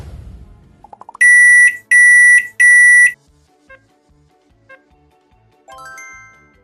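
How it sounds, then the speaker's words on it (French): A microwave oven gives three loud, evenly spaced beeps, each a bright sustained electronic tone, after a few quiet clicks and button presses, followed by faint knocks and a softer closing chime. "Un micro-ondes."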